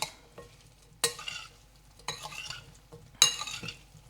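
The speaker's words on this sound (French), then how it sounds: "Je mélange tout ça." Cucumber salad with sesame seeds is tossed in a bowl, with three separate bursts of wet mixing and light utensil clinks against the bowl, fairly close, with quiet pauses between them.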